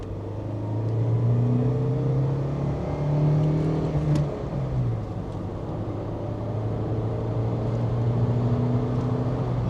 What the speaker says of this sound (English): Just how the engine still pulls so effortlessly and so smoothly